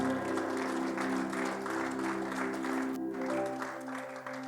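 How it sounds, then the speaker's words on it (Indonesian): Congregation applauding during a church worship service, a steady sustained wash of clapping that fades slightly toward the end, with organ or keyboard tones sounding underneath. "Kalau sukacitanya lebih, ya bisa tepuk tangan lagi."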